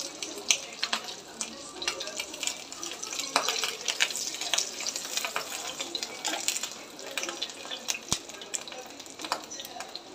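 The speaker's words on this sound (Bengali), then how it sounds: "এইভাবে এক এক করে সবগুলো ডিম আমি ভেজে নেব।" Eggs frying one by one in a pan in a home kitchen, a steady crackling sizzle with bursts of spitting oil and a faint clink, heard close with no talk.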